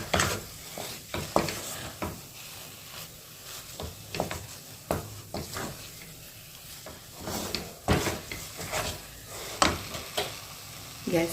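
A spoon stirs a thick gram flour and fresh coconut mixture in a pan after the gas has been switched off. Repeated scraping strokes and knocks against the pan come in an irregular rhythm over a faint sizzle.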